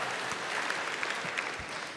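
Applause from a comedy club audience, a steady dense wash of clapping that fills the whole moment at close range, with no voices standing out above it.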